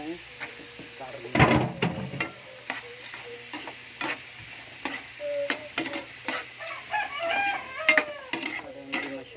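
Pork for sisig fries in hot oil in a pan, a steady bright sizzle with close stirring scrapes and clatter, a heavy clunk early on, while a person talks and a rooster crows in the background.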